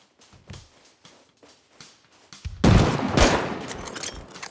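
Heavy gunfire from a Rust raid erupts halfway through, a loud dense burst of rapid shots over quieter scattered pops and faint talk before it.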